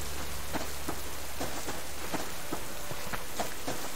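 Steady rain falls in the Subsistence survival game, with light fog at sunset. The hiss is constant and even, and scattered drop-like ticks and taps sound close by throughout.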